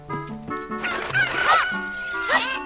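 Cuccos clucking at Lon Lon Ranch in Zelda: Ocarina of Time, a run of close, loud, rhythmic chicken clucks and squawks, several overlapping calls with no talk.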